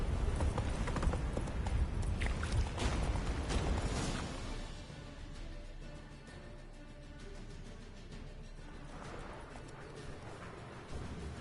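Roach, a horse in The Witcher 3, galloping with rhythmic hoofbeats that thunder loudly at first, then ease into a quieter, steady clatter under faint background ambience.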